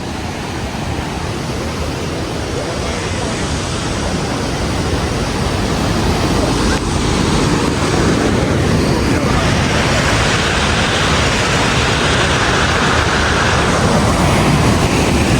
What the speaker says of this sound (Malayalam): നല്ലൊരു ചെറിയൊരു വാട്ടർഫോൾ ആണ് ഗൈസ്